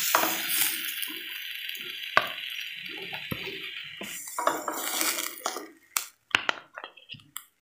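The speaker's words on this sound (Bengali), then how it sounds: "আমাদের বেগুনটা হয়ে গেছে, হালকা ভেজে নিয়েছি।" Brinjal lightly fried in a pan, with soft sizzling under repeated metal clinks and scrapes of a utensil stirring against the pan, ending in a few sharp separate knocks.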